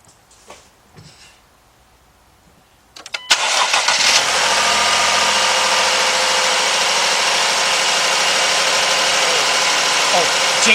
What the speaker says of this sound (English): Look at that engine run.